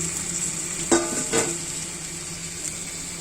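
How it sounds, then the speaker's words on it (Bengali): Cauliflower florets and a spoonful of sour yogurt go into a hot pan with raw jackfruit and mustard paste, giving two brief sizzling bursts over a steady background hiss of frying. "অল্প একটু টক দই অ্যাড করবো এই একটু টক দই দিচ্ছি অল্প দেখুন ফুলকপি এগুলোও ছেড়ে দিচ্ছি"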